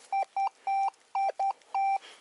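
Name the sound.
metal detector beeping, RUTUS Alter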